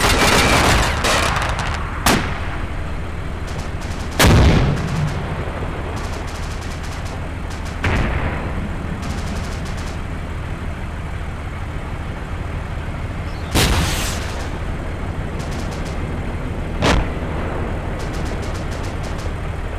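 Anti-tank weapon fire and explosions in the video game Arma 2 in an open field: a string of loud, sharp booms spaced several seconds apart over a constant low rumble and scattered distant shots.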